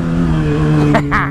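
Suzuki SRAD 750 motorcycle engine revving on a narrow street, a steady loud drone with harmonic tones that lift in short bursts near the end, with voices faintly underneath.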